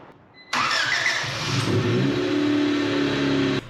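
A classic Honda car engine cranks briefly, catches and settles into a steady, close running idle with a faint whine, then cuts off sharply after about three seconds.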